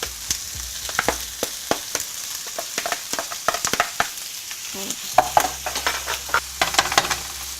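Prawns and minced meat stir-frying in a pan, with steady sizzling broken by repeated sharp scraping stirs of a utensil against the pan, close and fairly loud, no talking.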